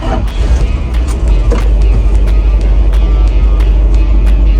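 An old Dodge D-600 truck rolls down the road with a loud, steady rumbling drone and faint rhythmic clicks or bumps recurring throughout.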